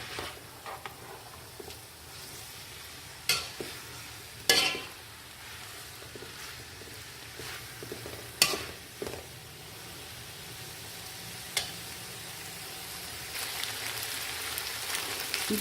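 A mutton and vegetable roll filling cooked on a high flame, with a steady soft sizzle and occasional sharp scraping clicks of a spoon stirring the pan. Heard close and fairly quiet, with no talking.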